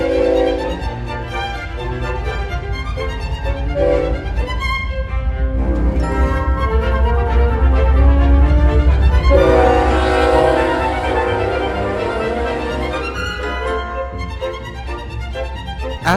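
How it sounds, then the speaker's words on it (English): A westbound CPKC autorack freight train rolls past on the Chicago line, loud and close, with a steady rumble of wheels and cars and sustained horn blasts over the rolling noise. "a dang CPKC auto rack came in westbound on the Chicago line"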